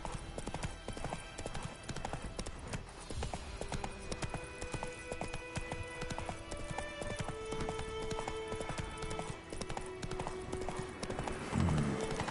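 Rapid rhythmic hoofbeats of a galloping horse in the video game The Witcher clatter steadily, with occasional snorts and a brief whinny near the end.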